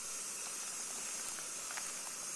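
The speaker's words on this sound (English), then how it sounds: "notice this is already steaming up a little bit" Jetboil Flash personal camping stove heating water, giving a faint, steady steaming hiss throughout with small bubbling ticks near the end.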